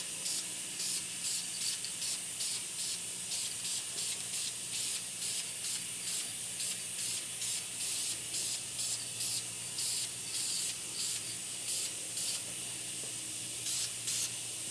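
Spray painting parking brake and dash bracket parts for a 1977 Camaro Z28, a quiet steady hiss broken by rhythmic short bursts of spray across the whole stretch, with no talking.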